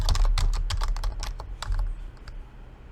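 Fingers type rapidly on a computer keyboard, a close burst of crisp key clicks that slows into a few scattered taps, with no voices.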